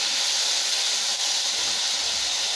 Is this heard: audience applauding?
no